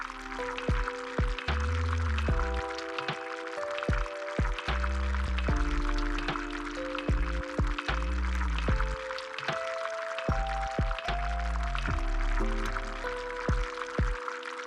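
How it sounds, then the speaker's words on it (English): Whisked eggs pour slowly and steadily into an oiled skillet around a ring of bread slices, a soft liquid trickle heard under background music. "then slowly pour the whisked eggs around them"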